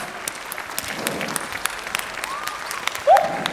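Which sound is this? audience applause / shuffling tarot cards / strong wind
audience applause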